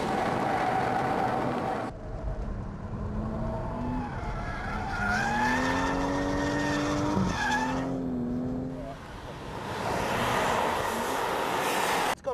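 Tires squeal in a long, wavering skid under a revving car engine, the pitch sliding up and down for several seconds before the engine roars on.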